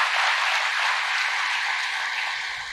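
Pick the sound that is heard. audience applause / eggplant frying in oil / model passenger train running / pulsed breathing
audience applause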